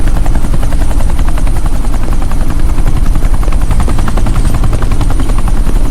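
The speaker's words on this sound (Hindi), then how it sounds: "ये हेलीकॉप्टर सीधे एयरपोर्ट के टारमैक पे लैंड होगा।" Helicopter flying close overhead, its rotor thudding in a loud, steady, dense chop that fills the whole stretch with no pause.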